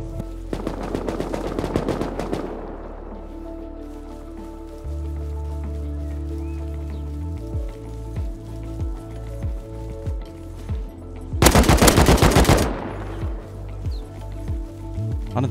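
Rapid automatic AK rifle bursts in the Rust survival game, a loud dense volley at the start and another near the end, separated by quieter stretches of tonal in-game sound and a steady rhythmic thumping.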